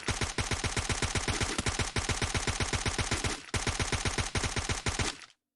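Automatic gunfire in the battle-royale game Free Fire during an esports playoff match hammers out in a rapid, steady rhythm for over five seconds, with two brief breaks, loud and close, before it cuts off.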